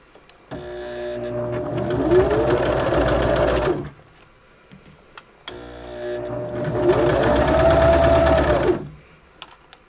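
A sewing machine stitches napkins in two long bursts of rapid, even whirring separated by a short pause, close and clear with no voices.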